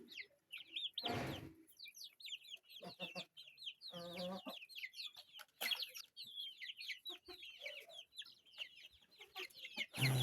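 Small chicks and hens cluck and cheep together in a close, busy coop, with rapid high peeps running throughout and a few louder hen clucks breaking in.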